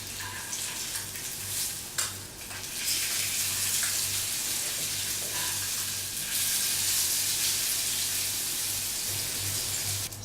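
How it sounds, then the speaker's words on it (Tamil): Pomfret fish frying in hot oil in a pan, a dense, steady sizzle that runs the whole time with brief crackles and small bumps where the fish is handled, close and loud, no voices. "மீன் நல்லா கிறிஸ்பியாக வரைக்கும் ஃப்ரை பண்ணிக்கோங்க."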